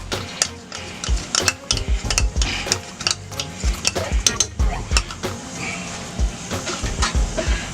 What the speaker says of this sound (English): we're going to incorporate these and get them all mixed up in here